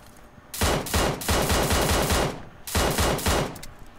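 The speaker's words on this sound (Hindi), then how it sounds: "दो शॉट पड़े साले को" Loud bursts of automatic gunfire in PUBG Mobile played on an iPad, two long rapid volleys separated by a short pause, close and dominant with no talk.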